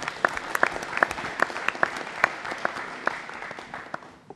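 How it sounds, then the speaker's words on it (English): A modest audience at a city council meeting claps, a thin patter of separate distinct hand claps from a smallish crowd in a hall, fairly even and tapering off at the end. "Let's go ahead and give Dr. Wilson a round of applause."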